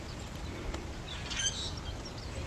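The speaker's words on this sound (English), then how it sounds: "I can hear birds singing in the background." Birds sing by a pond in a conservation area, giving a few short, high chirps and whistles at moderate distance over a steady hiss of outdoor background noise.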